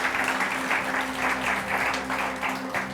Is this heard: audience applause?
yes